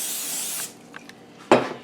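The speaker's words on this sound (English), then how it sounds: "I'm going to spray my pan" Cooking spray hissing onto a frying pan before butter goes in for fried leftover spaghetti: a long steady hiss, a few small clicks, then a second short, loud, close burst.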